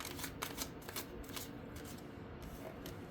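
A deck of tarot cards is shuffled by hand in quick riffling bursts of crisp flicking and slapping, close and fairly quiet, with short pauses between the bursts.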